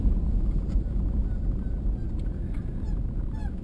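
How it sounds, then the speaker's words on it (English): A goose honks a few times, short nasal calls rising over steady wind and outdoor rumble with no talking. "I almost got creamed by a goose."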